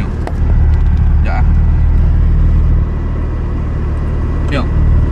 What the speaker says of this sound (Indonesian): Sekarang kau tengok idling dia after reset ECU